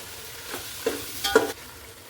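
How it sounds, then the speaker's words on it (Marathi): Chicken sautéing in a hot oil tempering for biryani, with a few close scraping stirs over a soft sizzle, brief and without voices. "आणि छान परतून घेऊयात."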